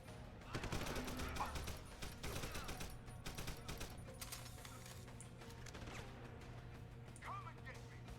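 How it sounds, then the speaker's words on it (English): Rapid gunfire bursts ring out in the Cyberpunk video game during a firefight, dense and continuous across the clip with sharp overlapping shots amid crashing impacts, while voices shout over the din. "Suppression fire!"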